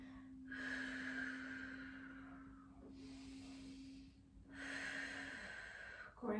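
A person breathes slowly and audibly through a yoga forward fold, with two long, close, airy exhales separated by a quieter pause and a sharp intake of breath at the end.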